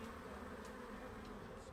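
About 50,000 agitated honey bees loaded in a pickup truck produce a faint, continuous buzzing hum, heard from across a road with no breaks.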